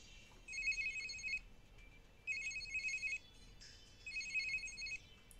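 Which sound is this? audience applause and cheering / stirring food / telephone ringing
telephone ringing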